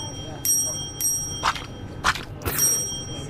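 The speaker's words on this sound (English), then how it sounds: "Yusuke, can you stop? No more bells" Bells in a VRChat game ring again and again, bright metallic dings sounding several times in quick succession against faint background noise.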